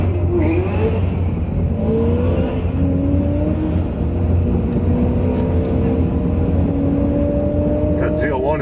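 A loud car engine roars close by on a drag strip during a quarter-mile run, its pitch climbing steadily through the gears as it accelerates hard, continuous from start to finish.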